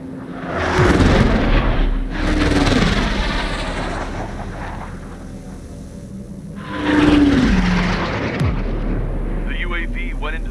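A UAV drone aircraft in the Ace Combat video game roars past in loud, sweeping jet passes that swell and fade, with a deep rumbling background and faint chirping radio-like sounds near the end.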